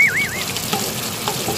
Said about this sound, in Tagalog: Dahan-dahanin lang natin ang paghalo para hindi madurog-durog ang ating mga veggies